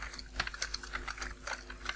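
A search being typed on a computer keyboard, a quick run of light key clicks in an uneven rhythm, close and fairly quiet over a low steady hum, no talk.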